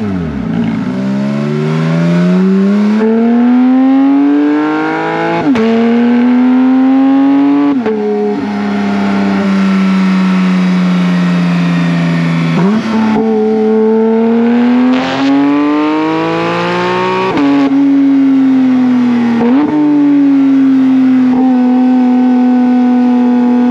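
Porsche 911 GT3 of the 991.2 generation accelerating hard on the road, its engine rising through repeated revving climbs with brief gear-change dips, loud and close with no talk.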